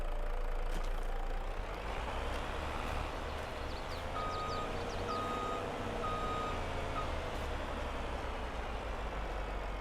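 A truck in Farming Simulator 22 reverses with a steady repeating reversing beep over a constant loud engine drone.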